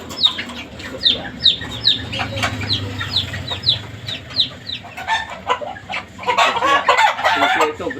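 Chickens and chicks at a home yard, a quick series of sharp peeping calls and clucks followed by a louder burst of crowing and squawking near the end, close and clear.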